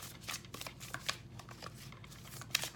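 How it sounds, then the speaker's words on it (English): A deck of tarot cards shuffled by hand in a quiet room, with repeated soft riffling and papery flicks in uneven bursts, close and fairly faint, with no talking. "We're doing a little bit more shuffling on camera"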